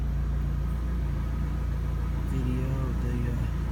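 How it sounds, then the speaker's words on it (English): A 2003 Ford Focus SVT engine running steadily at idle, a constant close low rumble with a faint rising tone partway through and soft voices underneath. "Car is running right now, by the way."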